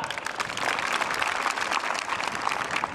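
People at a National Voters Day gathering in Hasanganj tahsil clap together in a steady, dense burst of applause that holds evenly for a few seconds.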